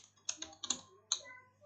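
Typing on a computer keyboard, about five crisp, close clicks in a loose, uneven rhythm, with a faint hum underneath.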